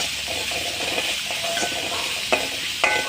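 Onions and tomatoes sautéing in a pan for a carrot, drumstick-leaf and egg stir-fry, giving a steady close sizzle with a few brief stirring clinks near the end, no one talking.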